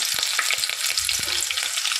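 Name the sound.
chopped onions frying in a pan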